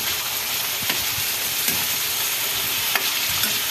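Vegetables frying in a pan with recado seasoning, a steady loud sizzle and hiss with occasional scraping knocks as a spoon stirs through them, no voices.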